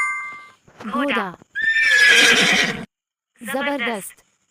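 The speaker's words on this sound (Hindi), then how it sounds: "घोड़ा।" Cartoon horse gives a loud, close whinny that rises and then trails off, with short animal-like calls just before and after.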